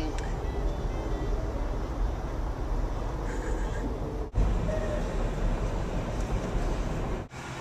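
A continuous low rumble of a passing train rolls on steadily, with a couple of brief dropouts and no clear talking.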